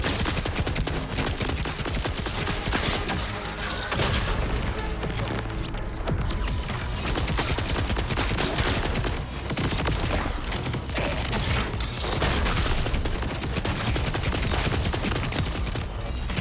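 Borderlands 4 video game combat: rapid continuous gunfire and bursts of explosions crackle densely throughout, loud and busy with little pause.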